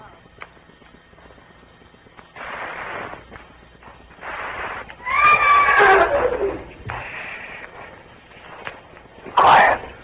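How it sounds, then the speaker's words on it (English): A horse neighs and whinnies loudly in short bursts, with faint hoof clatter in an old radio drama scene before a rainstorm; a voice speaks briefly nearby. "Nice horse. Nice horse. Shut up, horse."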